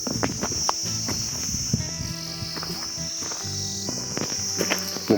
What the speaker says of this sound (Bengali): পোকার ডাক।